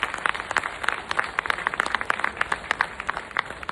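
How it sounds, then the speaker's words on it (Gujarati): Audience applause at a women's association silver jubilee celebration in Mumbai, a dense steady patter of many hands clapping for a few seconds, moderately loud with no speech over it. "એના માટે એકવાર જોરદાર તાળીઓ પાડો"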